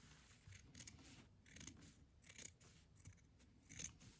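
A pair of scissors snips through quilt fabric along a stitched line in a run of crisp, faint cuts, coming in short bursts roughly every second with quiet pauses between.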